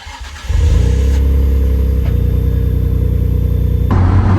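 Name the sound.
Fast & Furious film car engine revving on test drive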